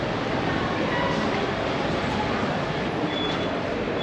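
A train at London Victoria railway station: a steady, loud rumble of rail noise and station bustle continues evenly throughout, with no clear voices.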